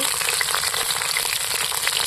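Chopped onion, whole garlic cloves and bay leaves frying in hot oil in a wok, making a dense, loud, even crackling sizzle with no pauses.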